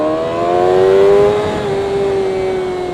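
A Suzuki GSX-R 600 sport bike revs high while being ridden, its loud, whining engine note climbing and then holding steady with slight pitch shifts.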